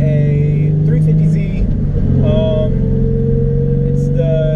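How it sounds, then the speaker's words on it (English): A Nissan 350Z with the VQ35HR engine drones steadily from inside the cabin while driving, a smooth continuous hum with no sharp revs. "So right now I am driving a 350Z."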